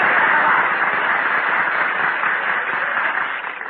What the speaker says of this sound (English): Applaud me, folks.